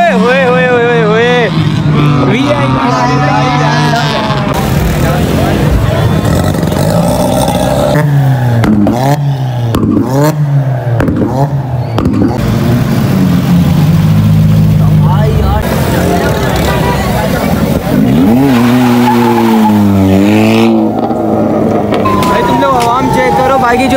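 Cars race along a track at night during an Independence Day celebration in Pakistan, engines revving and whining up and down in repeated passes, with loud crowd shouting and talk throughout.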